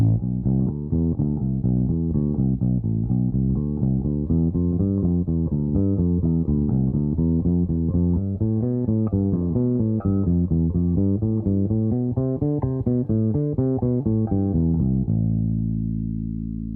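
A bass guitar plays a steady run of arpeggio notes, rising and falling without pause, then settles on a held low note at the end.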